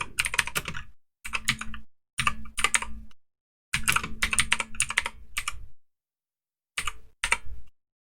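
Typing on a computer keyboard as commands are entered in a terminal, several quick close bursts of clicking keys separated by short pauses.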